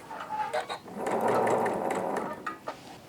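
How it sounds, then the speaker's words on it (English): A sewing machine stitches along a concealed zipper, a close, loud, rapid mechanical whirr rising to a steady run of about a second, with a few shorter bursts and clicks around it. "So I've stitched that now."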